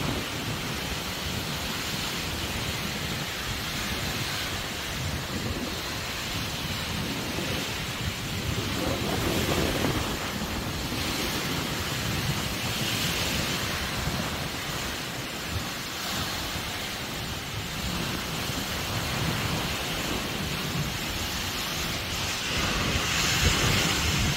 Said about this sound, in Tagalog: Kaso malakas pa din yung hangin, guys.